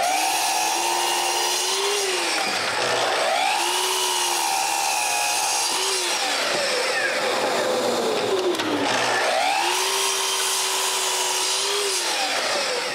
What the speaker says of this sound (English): I begin by cutting 4 strips to the same width from some scrap pieces of